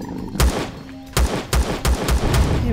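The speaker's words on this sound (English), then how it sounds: "Let's try the projectile pistol" Projectile pistol shots in the Empyrion Galactic Survival video game: one sharp shot, a brief pause, then a quick, fairly regular string of about six loud, punchy cracks with thumping low ends.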